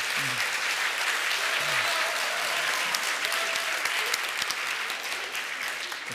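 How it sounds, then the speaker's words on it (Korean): A Korean church congregation at a Seattle Sunday service applauds graduates receiving Bible-reading course certificates, a steady, even wash of many hands clapping, moderately loud, with faint voices briefly audible early on. "우리가 큰 박수로 한번 축복하겠습니다."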